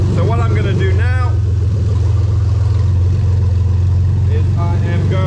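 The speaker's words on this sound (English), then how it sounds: "You can hear the engine is running perfectly smooth." A Toyota 1JZ-GTE VVT-i engine fitted in a Lexus IS200 with a Link ECU runs with a steady, even hum throughout, loud and close, while a voice talks briefly at the start and again near the end.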